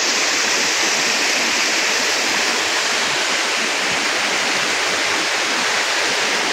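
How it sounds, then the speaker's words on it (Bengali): Waterfall at Nalanga hill in Goalpara, water dropping from a height in a steady, loud, close rushing roar that fills the whole stretch with no voices. "পানিটা দেখেন কত উপর থেকে"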